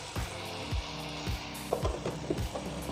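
Tomatoes and garam masala fry in a pan with a steady sizzle, punctuated by regular scraping knocks of a spoon stirring, close and fairly quiet.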